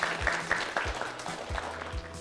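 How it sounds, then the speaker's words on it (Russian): Audience applause at a televised school quiz game between district teams, fairly soft clapping heard over a rhythmic thumping music beat, with no talking over it. "Давайте аплодируем"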